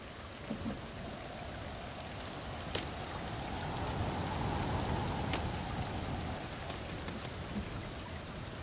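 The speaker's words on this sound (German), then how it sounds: "An sich finde ich es geil, dass jetzt wieder öfters mal regnet." Steady rain falls throughout a forest setting in the survival video game The Forest, a dense, even hiss of drops with a faint patter on surfaces and no talking.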